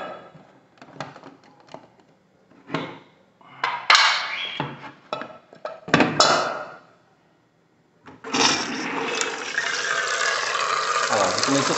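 Water draining out of a Soft-brand water purifier after its filter refill is changed, a steady close gushing and splashing near the end, preceded by scattered clunks and handling knocks, with a voice speaking in between.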